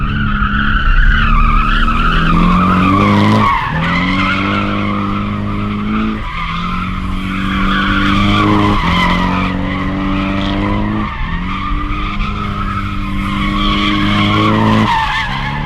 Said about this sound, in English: going around in this circle faster and faster, the back end is gonna wash out. So it's gonna back out, and you're gonna basically have initiated a drift.